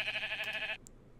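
A single sheep bleat from a Minecraft movie trailer, a short wavering nasal call lasting under a second, clear and close, followed by a faint high blip and near silence.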